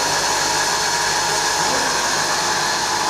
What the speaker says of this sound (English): I am pressing this spindle on. See, this spindle will get on.